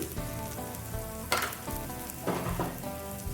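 A spice paste with green chili, chili powder, coriander powder and salt fries in a pan with very little oil. It gives a steady moderate sizzle, with two louder bursts of hiss as it is stirred, and no voices.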